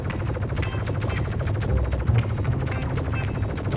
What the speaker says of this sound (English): I don't think this Gatling gun is going to be able to destroy it.